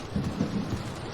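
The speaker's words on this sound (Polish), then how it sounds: "O, deszczyk." Steady rain in a Roblox game, a dense, even hiss of falling drops with a low rumble underneath, close and continuous throughout.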